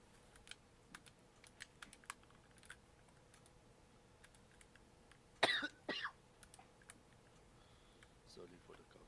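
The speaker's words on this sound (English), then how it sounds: "Sorry for the cough." A cough bursts out once or twice near the middle, fairly close, against a quiet room background with light keyboard typing and clicks scattered throughout.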